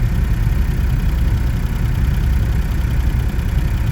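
A 2012 Smart fortwo engine idles steadily at close range, a constant low droning hum with slight vibration as the revs settle back down, with no voices over it.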